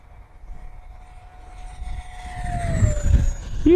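FMS Futura 80mm electric ducted fan RC jet passing in windy conditions, a steady high whine sliding down in pitch as it flies by, with wind buffeting and rumble building louder toward the end.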